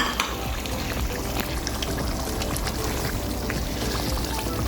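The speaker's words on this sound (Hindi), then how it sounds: "अब यहीं पर हम जो है ना डाल देंगे गोश्त, ताकि हमारा गोश्त भी अच्छी तरीके से मसाले भुन जाए" Mutton cooking in spiced masala for lauki gosht, a dense steady sizzle and bubbling hiss close by, continuous without pauses and with no talk.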